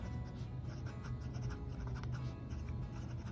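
A fountain pen with a Jowo number 6 steel nib moves steadily across paper, a faint, close scratching that keeps going for a few seconds with no talking.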